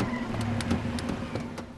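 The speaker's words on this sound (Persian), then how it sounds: "ناگهان عده‌ای با چند تا ماشین خفن تخگاز میان تو میدون" Several fancy cars arrive at full throttle, engines revving with quick bursts over a steady motor drone, moderately loud and close.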